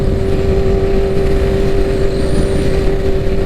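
A 2015 Honda CBR1000 motorcycle cruising on a highway, its engine holding a loud, steady drone with a constant tone and rushing wind noise throughout, no voices.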